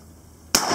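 A single loud, sharp shotgun blast fires at close range after a moment of near quiet, its broad burst ringing out and decaying slowly.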